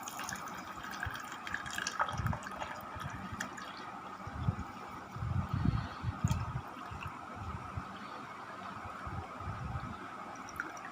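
Water is poured into a glass holding spice powder, a soft trickling pour with a few fuller gurgling splashes, quiet and close, with no talk.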